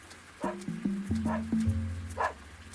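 A dog barks behind a gate, a handful of short, sharp yaps and yips spaced across a couple of seconds over a steady low droning tone.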